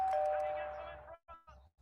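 A soft electronic chime from a Wipro Smart Doorbell rings once with a steady tone that fades, followed by a couple of brief quiet sounds.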